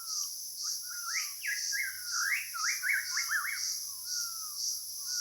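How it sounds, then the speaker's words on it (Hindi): Birds calling loudly nearby in a natural outdoor setting, a run of repeated chirping phrases over a steady high insect drone from crickets, with no talking. "एक चिड़िया तो बहुत ज़ोर से बोल रही है"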